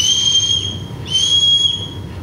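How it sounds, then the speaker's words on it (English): A shrill, steady whistle blows loud and close, breaking briefly before a second long blast, with a low rumble underneath. "Come and help me if you hear the whistle."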